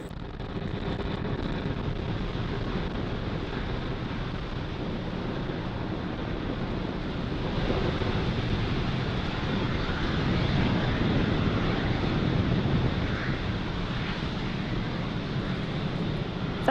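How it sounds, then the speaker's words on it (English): Deep, steady rumbling roar of a SpaceX Falcon 9 rocket climbing away from Space Launch Complex 40 carrying the SXM-8 satellite, a broad continuous noise that holds at an even, distant level throughout. "Falcon 9 has successfully lifted off with the SXM-8 satellite from Space Launch Complex 40"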